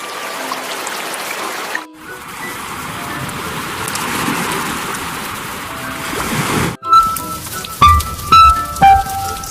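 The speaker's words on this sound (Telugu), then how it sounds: "బాగా వర్షాలు కురుస్తున్నాయి." Heavy rain pours down in a dense, steady roar for several seconds, then cuts off abruptly and gives way to a few soft, ringing musical notes.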